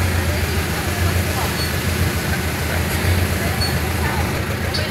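Steady, dense traffic rumble on a congested coastal road, a continuous low drone of idling and creeping vehicles close by, constant throughout without clear individual passes.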